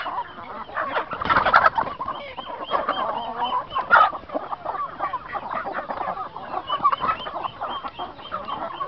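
Several Aseel gamecocks cluck and crow in a busy, continuous barnyard chorus, with a few louder calls standing out close by.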